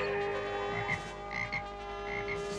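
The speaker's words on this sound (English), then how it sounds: "Teela will remain a little frog forever!" A cartoon frog croaks in a steady run of throaty, ribbit-like calls, close and fairly loud, set against a tonal musical background with no talking.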